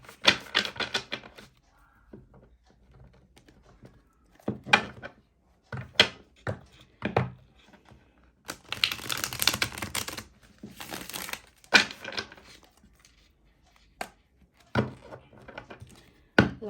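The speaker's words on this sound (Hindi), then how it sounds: "लास्ट शफलिंग करते हैं।" Tarot cards are shuffled in separate bursts of riffling and slapping, some brief and sharp, one longer flurry mid-way, with quiet gaps between.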